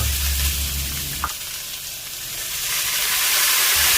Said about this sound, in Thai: ผัดฮอดอกให้พอสุกสักครู่หนึ่งนะคะ แล้วเราก็จะใส่พริกหวาน แล้วก็มันฝรั่งค่ะ